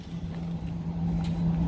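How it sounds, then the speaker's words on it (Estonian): Transkandik company truck idling nearby at a Christmas gathering in Kolbäck, a steady low engine hum with a constant drone throughout. "siin on üks Transkandiku auto"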